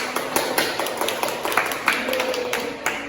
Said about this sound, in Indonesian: Beri tepuk tangan juga.